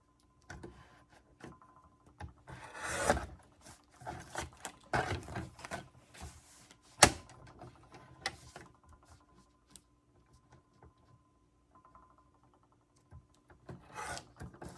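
Intermittent rasping and scraping as the sides of a wooden character trait board are cut, coming in uneven bursts with quiet gaps between them, loudest near the start and middle and tapering off toward the end.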